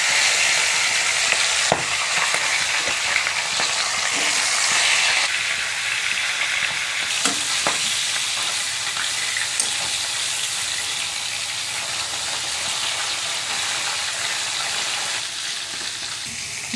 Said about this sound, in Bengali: তেলটা গরম হয়ে গেছে, দিয়ে দিচ্ছি মাছের মাথা।